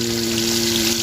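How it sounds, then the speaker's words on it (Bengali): Fish fries at an outdoor party cooking spot, giving off a steady, loud, close sizzling hiss with a low constant hum underneath and no voices. "এখানে বর্তমান এখন মাছ ভাজা হচ্ছে"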